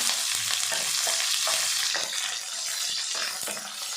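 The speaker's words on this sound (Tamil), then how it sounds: "நீல வாக்கில் நறுக்கின ஒரு பெரிய வெங்காயத்தை சேர்த்துட்டு நல்லா வதக்கிடலாம்" Oil sizzles loudly and steadily close by as sliced onion fries for a plantain stir-fry, with occasional stirring scrapes under the hiss.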